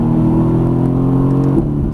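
Mercedes-AMG GT S on a racetrack accelerating under a gradually squeezed throttle in second gear, a steady loud engine drone building evenly with no talk.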